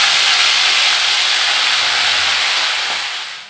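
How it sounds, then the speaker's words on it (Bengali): Hilsa fish frying in hot oil gives a loud, continuous broad hiss that tapers off at the end, with no voices. "এই ইলিশ মাছগুলোকে এখন আমি হালকা করে একটু ফ্রাই করে নেব"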